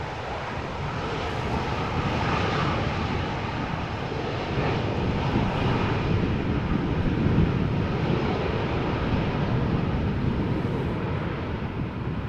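An airliner approaches to land at Amsterdam Schiphol Airport on a gusty crosswind day, its engines producing a loud, steady broadband roar that holds for about twelve seconds with wind buffeting the microphone.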